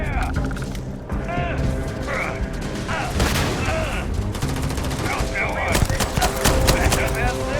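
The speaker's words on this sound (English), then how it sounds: "Heavy fire over here!" Heavy gunfire in the video game Starfield, with dense, overlapping bursts of shots and booms running through the scene, loud and close, mixed with game sound effects and a voice talking over it.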